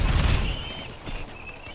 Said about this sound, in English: our cannons are pretty terrifying